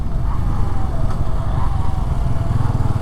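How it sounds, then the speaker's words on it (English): A Bajaj Freedom 125 CNG commuter motorcycle rides through a U-turn. The engine gives a steady, close, low hum at moderate speed with no talk. "Let me take a U-turn and give you a proper review of the bike."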